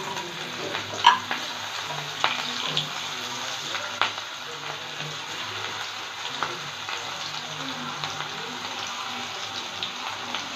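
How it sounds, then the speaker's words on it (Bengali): Onions fry in hot oil in a pan for a prawn dish, giving a continuous moderate sizzle with occasional light clicks and taps of utensils, and no talking. "আস্তে দিয়ে দেবো পেঁয়াজ।"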